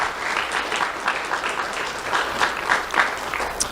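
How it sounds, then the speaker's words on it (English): A crowd at a community awards ceremony applauds a civilian support unit, a steady, dense wash of many hands clapping together, fairly close and sustained throughout. "let's have a round of applause for our civilian support unit"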